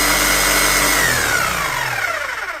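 A Bosch GSH5CE demolition hammer runs steadily and loudly close up, its motor whine holding constant, then dropping in pitch as it winds down, with no talk over it.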